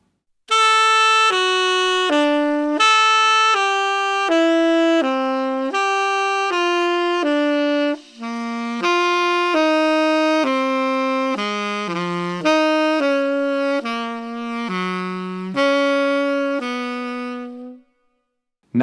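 A saxophone slowly plays a lick of major triads descending by tones, with distinct sustained notes in clear phrases, close and loud with no talking.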